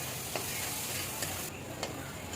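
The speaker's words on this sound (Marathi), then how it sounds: "त्यानंतर याच्यामध्ये चिरलेला टोमॅटो घालायचा आहे" Chopped tomato hits a pan of okra cooked with turmeric, making a continuous soft hiss of frying with a few faint clicks of a utensil, quiet and unbroken by speech.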